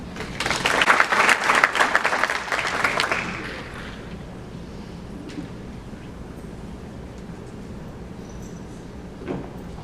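An audience at a logistics and sustainability event applauds a speaker, dense clapping for about three seconds that fades to a quiet room, with a faint knock near the end.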